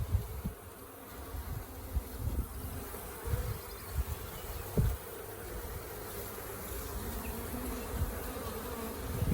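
Honeybees buzzing around a hive, a steady dense hum of many bees nearby, with occasional closer wingbeats passing by and no voices.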